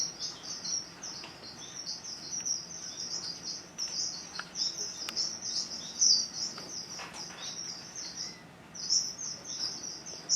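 High, rapid chirping of small strawberry finches, continuous and fairly close, with insect-like buzzing underneath; no voices.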